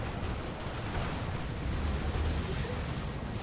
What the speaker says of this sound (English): And there's a Demolisher Cannon.